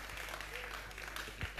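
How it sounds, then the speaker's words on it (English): Audience applause, a steady wash of clapping heard somewhat distant and faint, continuous throughout the short moment. "A round of applause, ladies and gents, for Akola Nyame."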